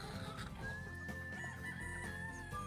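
Chickens on a farm, close clucking and fowl calls over a steady outdoor background, with a long rooster crow drawn out through the middle.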